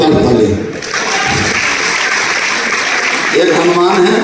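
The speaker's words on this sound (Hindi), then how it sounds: "जोरदार ताली" An audience at a Safe Shop motivational gathering bursts into continuous applause that builds and holds at a steady, loud level, with a voice briefly audible at the start and end.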